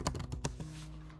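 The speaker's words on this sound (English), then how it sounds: "my typing is horrible" Close, quick computer keyboard typing: a short burst of about six sharp keystroke clicks, then quiet.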